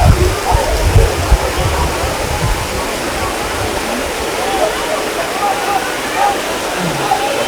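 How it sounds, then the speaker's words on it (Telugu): A zoo waterfall pours steadily in a continuous broadband rush of flowing water, loud and near, with no voices over it. "చూడండి, ఇందాక మనం చూసిన వాటర్ ఫాల్. వాటర్ చాలా బాగా ఫ్లోటింగ్ అవుతుంది."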